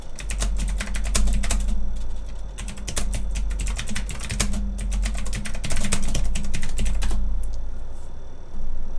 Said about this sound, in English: that's my mechanical keyboard. It's mega awesome.